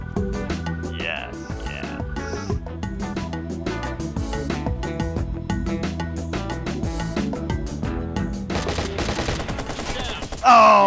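Rapid bursts of gunfire from an online Watch Dogs multiplayer team deathmatch in a lumber yard, shots layered densely over a steady backing music bed, ending with a louder sharp burst.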